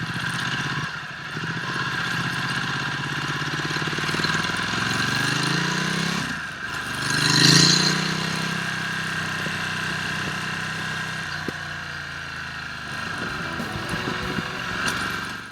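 Ducati Multistrada 1260S motorcycle with an upgraded exhaust, heard while riding: a steady, loud engine drone with rising and falling revs and a brief surge near the middle, plus wind and road noise, no talking.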